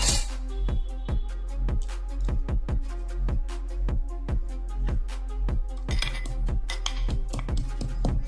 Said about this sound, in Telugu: చివరగా యాలకులు దంచి వేసుకుందాం